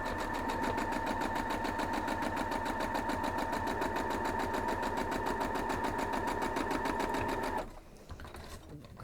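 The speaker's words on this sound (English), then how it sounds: "So you're going to sew your solid block to the half square triangle." A sewing machine runs steadily at speed, stitching a solid block to a half-square triangle for a Rocky Road to California quilt block, a dense even whir for about seven and a half seconds before stopping, with faint talk underneath.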